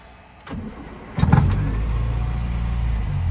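Morris Minor engine on a cold start: a brief cranking whir, then the engine catches with a couple of sharp bursts and settles into a steady, close idle.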